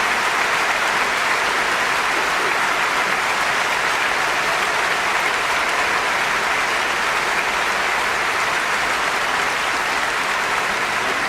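Sustained, dense audience applause at a stage performance of Les Misérables after a solo song, a steady loud roar of many hands clapping that holds unchanged from start to finish with no voices.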